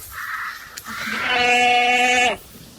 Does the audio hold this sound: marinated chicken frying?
no